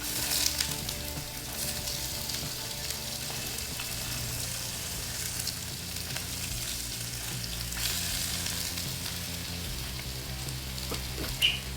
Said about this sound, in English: So let me start with the shrimp saute. Oh yeah, good and hot.